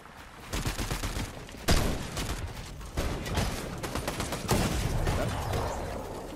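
Rapid gunfire in Fortnite competitive play, continuous dense bursts of shots with a few louder cracks, close and steady over several seconds.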